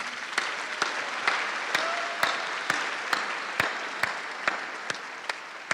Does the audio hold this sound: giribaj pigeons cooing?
no